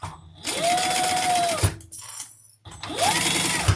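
An industrial sewing machine back-stitches through a leather bag in two close, loud bursts of rapid motor whine and needle chatter, separated by a short pause.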